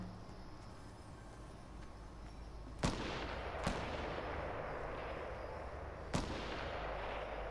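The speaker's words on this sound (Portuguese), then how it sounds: "É um tiro de sniper." Three sharp sniper rifle cracks ring out at irregular intervals over a steady background hum in Fortnite, each a sudden, distant-sounding report with a short echo.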